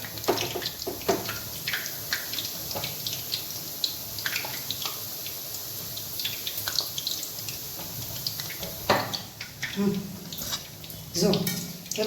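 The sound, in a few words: water running while cooking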